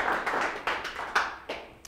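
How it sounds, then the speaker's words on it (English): Small-room applause at a Python programming meetup, a handful of scattered claps with a few distinct louder hits, fading out over about two seconds. "so let's give them a round of applause too."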